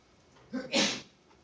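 A single sharp sneeze, close and fairly loud, a quick intake followed by the burst, with quiet around it.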